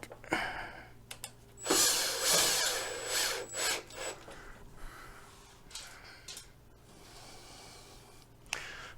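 Small flathead screws being worked loose from the battery compartment of a Pride Mobility Victory 9 scooter, giving soft scraping and rubbing tool noises with a few sharp clicks, a busier stretch early on, then quieter fiddling.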